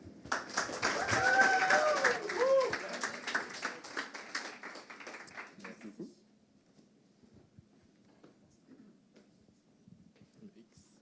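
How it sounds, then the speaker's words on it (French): Audience applause greets a regular guest at a Bistro Brain science event in Quebec, a crowd clapping loudly for about six seconds with some voices mixed in, then fading to a quiet room. "vous pouvez l'applaudir chaleureusement"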